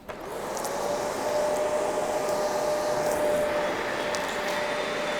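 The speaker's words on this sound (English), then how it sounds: "we get to vacuum the floor" A vacuum cleaner runs steadily while cleaning the floor of a music room, starting up with a rising whine and then holding a loud, continuous, even drone, with no talking.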